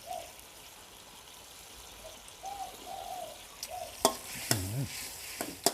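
A Thai fish dish stirred and simmered down in a pot, with soft bubbling and scraping that turns into sharper clinks and knocks toward the end; birds chirp faintly in the outdoor background.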